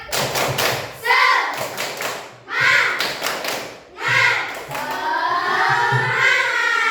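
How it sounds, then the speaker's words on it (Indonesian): A fifth-grade Indonesian class performs the 'tepuk semangat' clapping routine, with crisp, close claps in rhythmic clusters between bursts of children chanting in unison. "kita tepuk semangat dan tepuk kelas 5"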